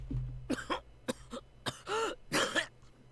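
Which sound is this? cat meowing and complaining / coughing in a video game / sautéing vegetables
coughing in a video game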